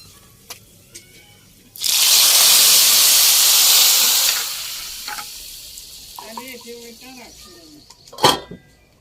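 A sudden loud sizzle as a hot oil tempering (tadka) is poured into the pot, hissing strongly for a few seconds before settling into quieter frying, with a brief voice and a clink afterward.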